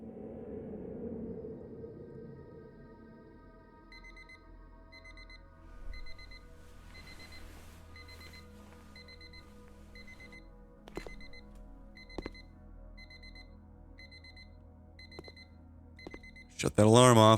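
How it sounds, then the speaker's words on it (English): An alarm clock rings in the video game The Shattering, repeated regular beeping pulses in short bursts over a low ambient hum, with a few clicks and a louder burst near the end. "Shut that alarm off."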